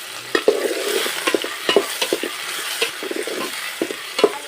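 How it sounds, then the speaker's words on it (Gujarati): Tomatoes frying with onion in oil in a pan for a Kathiyawadi stuffed brinjal curry, with a steady close sizzle broken by repeated scraping stirs of the spoon. "ટમેટાને થોડીક વાર પાકવા દઈએ."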